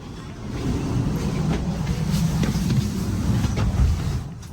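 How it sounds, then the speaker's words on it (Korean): Inside a moving ITX Saemaul passenger train, a steady low rumble of wheels and carriage noise fills the cabin, with faint clicks and no voices. "ITX 새마을호는 처음 타보는데요."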